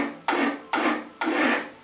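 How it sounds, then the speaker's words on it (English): A metal file strokes along a blade bevel, making three slow rasping pushes, each starting abruptly and fading out, close and clear with no talking. "Run the file. Doesn't take very many strokes."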